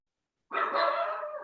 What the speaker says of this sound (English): I told you I have a ferocious guard dog here.